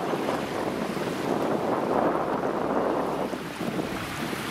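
Wind blowing across a lakeside carp-fishing camp in a small bay, a steady broadband rush with gentle swells in strength throughout and no voices.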